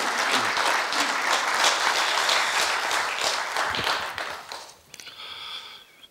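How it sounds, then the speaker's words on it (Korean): Loud, sustained applause from a large crowd welcoming a university president to the podium, dense and steady for several seconds before tapering off into scattered claps. "총장님께 큰 박수로 환영해 주시면 감사하겠습니다."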